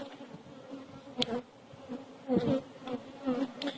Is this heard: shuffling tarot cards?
no